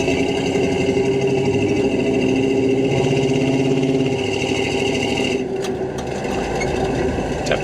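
The stock small-block engine of a restored 1971 GMC Sierra Grande short-wheelbase 4x4 pickup runs at a steady, loud idle-like drone, easing slightly toward the end.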